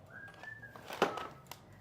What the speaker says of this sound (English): Am I whistling Wizard of Oz?